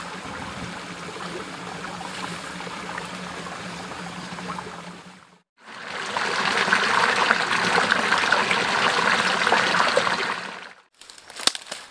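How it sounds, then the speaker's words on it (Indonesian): A river flows below a village path near the foot of Mount Papandayan in Garut, making a steady rushing wash of water that briefly drops out and then returns louder. "di bawah saya ada sungai"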